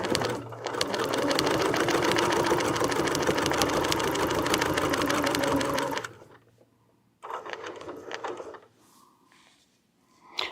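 A sewing machine runs in a long continuous burst of rapid, rattling stitching, then stops and gives a shorter run and a final brief whir, close and clear with no talk.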